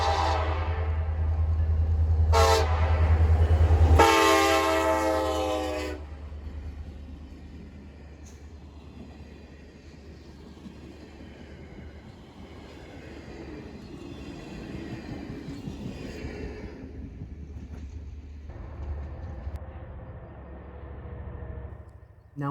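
An Alaska Railroad Denali Star passenger train rumbles past with a steady low roar, sounding two short horn blasts near the start before the rolling noise fades to a quieter, distant drone.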